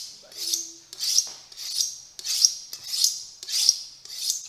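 A kitchen knife being honed gives seven even, rhythmic scraping strokes, close and crisp, with no talk.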